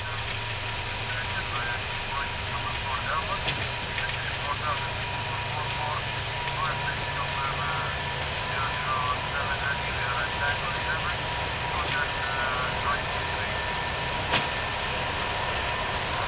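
Inside the cockpit of a Gulf Air Airbus A321neo, the engines roar at takeoff thrust as a steady, droning rumble for the whole stretch. Faint crew voices sound intermittently beneath it.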